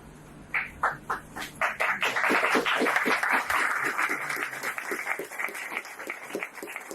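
An audience at a political lecture on universal basic income in Argentina claps. Scattered claps start the sound, then it swells into sustained, fairly close applause that slowly thins out.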